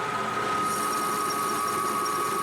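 A lathe machining cut at 300 RPM with a 50-thousandths depth of cut, a steady close mechanical whine with a sustained high tone over a constant rumble, no voices.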